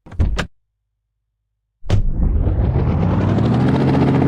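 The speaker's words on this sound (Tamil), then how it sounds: "இதான் என்னோட ஹெலிகாப்டர் பாருங்க." Helicopter from the Indian Theft Auto simulator video game: a short burst of the rotor, a second of silence, then the engine and blades spin up into a loud, steady, rising whine that carries on to the end.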